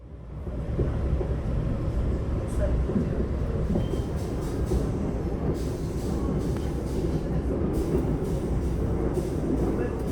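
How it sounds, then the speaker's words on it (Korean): A train rolls slowly through the Gangwon-do countryside near Yeongwol, a steady rumbling rattle of wheels on track with faint higher clatter, heard from inside, continuous and fairly loud without talk. "영월을 지나가면 기차는 이제 최대 70km 정도로 서행을 합니다"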